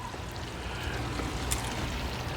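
Rinse water from an RV black tank pouring and splashing out in a steady, continuous rushing stream, close and loud.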